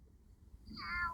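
A human voice imitates a cat's meow, giving one short, rising-and-falling mew near the end after a quiet pause, fairly faint and close.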